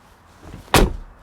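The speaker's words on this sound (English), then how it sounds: "That's the typical G-Class door closing sound" Door of a 2016 or 2022 Mercedes G63 AMG slamming shut, one loud, solid, heavy thud up close after a faint rustle, then quickly fading.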